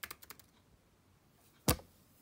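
Laptop keys are pressed in a quick burst of four or five light clicks, followed by a pause and then one heavier, louder thump, all close by in a quiet room.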